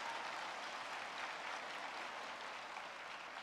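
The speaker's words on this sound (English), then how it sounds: "It's okay to clap." Steady, soft applause from a commencement audience at a School of Social Work winter graduation, greeting online Master of Social Work graduates; an even, distant wash of clapping with no break or voice.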